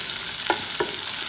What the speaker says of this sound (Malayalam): നന്നായി വഴറ്റി കൊടുക്കുക